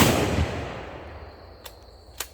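A .243 rifle fired at budget body armor produces one sharp report that decays away, followed by two small distant cracks, with no talking.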